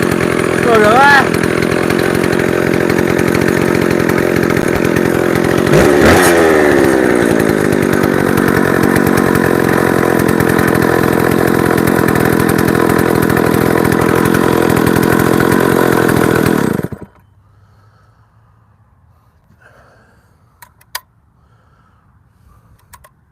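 A chainsaw engine runs steadily and then has its idle turned down, with a falling pitch sweep near the middle before it cuts off abruptly, leaving near silence with a few faint clicks.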